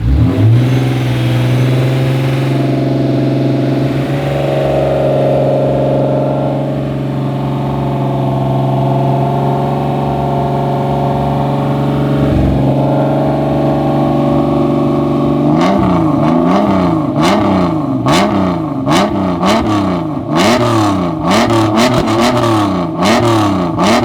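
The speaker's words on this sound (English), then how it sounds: "Why does it sound better with a supercharger on it?" A supercharged car engine idles with a steady drone, then revs repeatedly in sharp rising and falling bursts, loud and close, with no voices.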